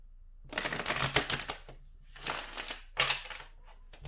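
Cards are riffled and shuffled in three quick bursts of crisp, fluttering flicks separated by short pauses, close up.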